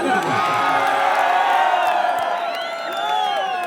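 A large open-air crowd at a live Bhojpuri stage show in Jharkhand cheers, whoops and shouts loudly, close and continuous for the whole clip.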